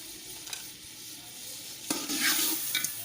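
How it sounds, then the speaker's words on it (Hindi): Potatoes and garam masala frying and being stirred in a pot, a soft sizzle with a louder scraping stir near the end, close and without talk. "अब इसको अच्छी तरह मैंने आलू और मसाले को भून लेना है"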